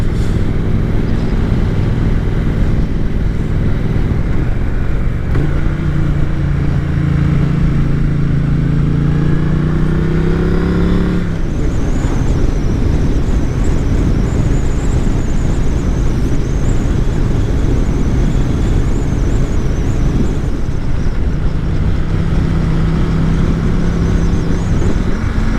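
A Triumph Street Twin motorcycle riding along Cornish roads, its engine droning steadily and loudly with gliding pitch shifts as it changes speed, set against constant wind rush.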